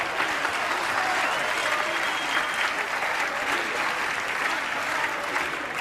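An audience at an evening lecture event gives a sustained ovation, dense steady applause filling the room at an even loudness throughout with no pauses.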